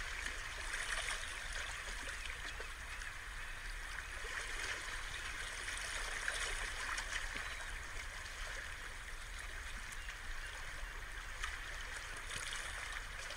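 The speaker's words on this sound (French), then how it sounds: "L'eau qui part sur la plage et qui revient à la mer, comme une danse infinie." Gentle sea waves wash up a beach and draw back in a steady, unbroken hiss of water, soft and continuous throughout with no voices.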